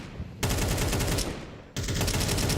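Rifle fire in Counter-Strike, two loud bursts of rapid automatic shots, close and sharp, with a short gap between them.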